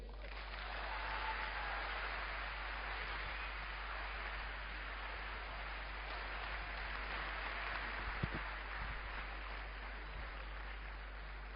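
Steady applause from a seminar audience at a SmartValue business event, clapping for a speaker; a faint, even wash of hand claps holds throughout with no voices over it.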